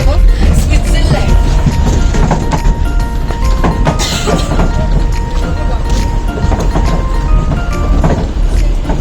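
A moving train carries riders near Malbazar Park, filling the clip with a loud, steady rumble and rattling carriage noise from start to finish, with no clear voices.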